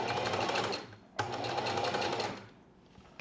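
A sewing machine stitches linen fabric for a pair of pants, running in a steady close whirring burst that stops briefly, restarts, then slows and fades near the end.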